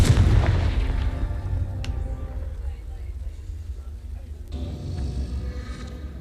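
A Confringo fire spell explodes in Hogwarts Legacy: a deep, heavy boom opens the clip and fades into a low rumble, with a sharp crack and a brighter whooshing burst later on.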